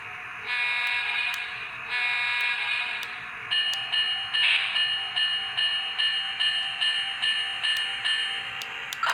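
A Lionel PRR E33 rectifier electric locomotive runs laps on a model train layout, giving a steady high electric whine and hum with periodic clicks from the track joints, close and continuous.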